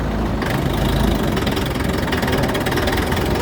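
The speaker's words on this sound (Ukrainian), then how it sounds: "як трактор рушає з максимальної повишеної" Loud, steady rumble of a 50 hp Bulat 504 tractor engine at close range, a low knocking drone with slight variation as it pulls away in fourth gear.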